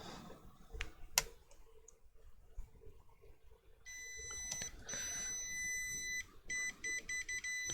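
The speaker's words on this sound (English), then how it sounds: "I don't know if you can hear that beeping." A continuity tester beeps as a probe touches the ground side of a capacitor on a Lowrance Hook2 12 Tripleshot fish finder's circuit board; faint clicks come first, then a string of short, high, evenly spaced beeps close by.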